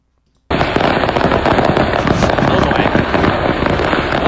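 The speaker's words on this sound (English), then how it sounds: "a semi-truck carrying fireworks lit on fire" Fireworks explode nonstop from a burning semi-truck on a Tennessee highway, a loud dense crackling barrage of rapid bangs and pops that starts abruptly and never lets up.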